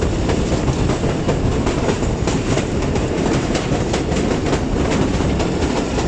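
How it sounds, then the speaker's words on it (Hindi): The Thal Express, a Pakistani passenger train, rumbles along the rails with steady clickety-clack of wheels over joints, loud and continuous as heard from on board. "ये ट्रेन थल के इलाकों में सफ़र करती है।"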